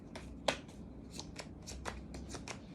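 Tarot cards are shuffled in a quick series of crisp riffles and flicks, about a dozen short bursts close and quiet, with no speech.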